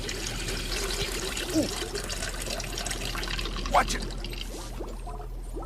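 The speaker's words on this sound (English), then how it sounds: "Now I'm going to pour the sugar water into this jar." Hot sugar water pours into a jar in a steady, soft trickle, heard under the continuous talk of a voice nearby.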